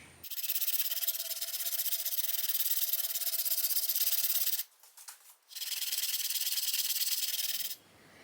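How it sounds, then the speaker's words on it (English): Two long bursts of steady sawing on a wooden arrow shaft, cutting a 1 inch slot for a broadhead, bright and close, with a short break between strokes and no talk. "just take my time and cut this 1 inch slot as perfectly as I can manage"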